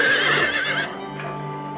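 A horse whinnies loudly in Silent Hill 3, a long shrill neigh filling the first second before trailing off into fainter nickering over a low game hum.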